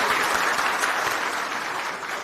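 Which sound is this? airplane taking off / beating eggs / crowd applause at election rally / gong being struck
crowd applause at election rally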